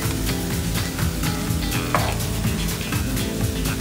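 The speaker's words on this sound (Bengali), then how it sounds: "নুডলসের জন্য ভেজিটেবল রান্না করছি" Vegetables sizzling and being stirred in a pan for noodles, including onion, cucumber and mixed vegetables, a steady close frying hiss with repeated scraping and clinking strokes throughout.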